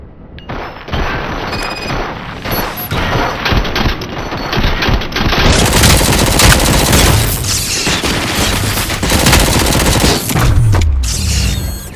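Sustained automatic gunfire and booming blasts in the first-person shooter Robocop: Rogue City, loud and dense throughout a chaotic firefight with no talk.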